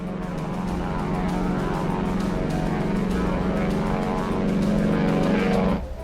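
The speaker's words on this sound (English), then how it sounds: "At 8:20 a.m., the first B-25 takes off." A B-25 bomber's propeller engines roar loud and steady as it takes off from the deck of the aircraft carrier Hornet, a dense drone swelling slightly before cutting off sharply near the end.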